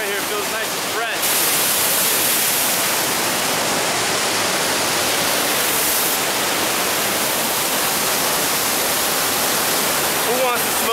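A waterfall in Yosemite National Park roars in a loud, dense rush of broadband noise that continues steadily throughout, with a voice barely audible at the start.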